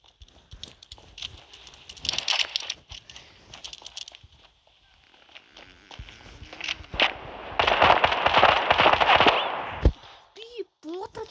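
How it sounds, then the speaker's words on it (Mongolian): Gunfire in a shooting video game during a one-on-one match against bots: scattered crackling shots early on, then a dense, loud burst of rapid fire, with talk mixed in. "би буудахад онохгүй байна юм чинь."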